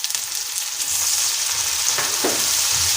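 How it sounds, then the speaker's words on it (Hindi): Loud, continuous sizzling of ginger-garlic paste frying in a hot pan for chicken karahi, with occasional stirring scrapes, close up and with no voices. "इसे हम 2 से 3 मिनट अच्छी तरह भून लेंगे"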